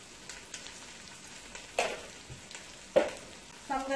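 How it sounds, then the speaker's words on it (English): Brown cumin seeds with salt fry in a pot, giving a soft, steady sizzle broken by a few sharper stirring clatters, close and alone without talk. "you're going to let this fry, guys, for about 4 minutes"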